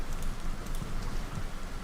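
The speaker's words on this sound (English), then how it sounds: "it is raining, the ground is damp" Rain in the wartime strategy game Combat Mission: Battle for Normandy, a steady dense patter of falling rain on damp ground that holds level throughout with no talking.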